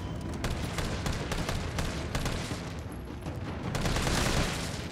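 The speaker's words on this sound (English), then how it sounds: "So about 8 shots per zombie" Rapid gunfire fills a Resident Evil 3 Remake zombie fight, with a dense volley of sharp, loud shots in quick succession, then a heavier, sustained burst near the end.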